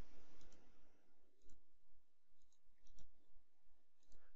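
Computer mouse left-clicks while selecting points in zone-editing software, a handful of faint, sharp clicks spaced irregularly across a quiet room, with no talking.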